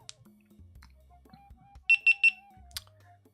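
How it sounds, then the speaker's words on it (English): Three quick, sharp electronic beeps sound in even succession as a faulty camera powers up, preceded and followed by faint quiet clicks and hum. "Beep, beep, beep. Powers up."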